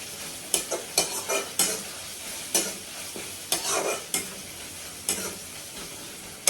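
Bay leaf dropped into hot oil in a home kitchen pan, giving bursts of sizzling and frying with stirring scrapes, several sharp crackling surges over a steady hiss, close and moderately loud with no talking.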